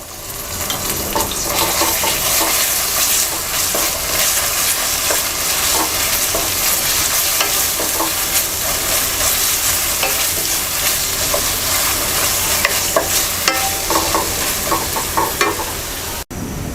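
Ginger-garlic paste and onion paste fry hard in hot oil, a loud, close, continuous sizzle with steady stirring scrapes throughout and no talking.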